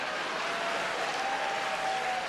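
Applause from a large audience at a popular music awards show, forming a dense, continuous wash of clapping across a short stretch.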